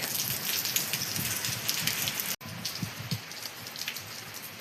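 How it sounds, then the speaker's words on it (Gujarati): Steady, gentle rain patters on a surface with a soft, even hiss, broken by one brief dropout. "મસ્ત ધીમો ધીમો વરસાદ આવે છે"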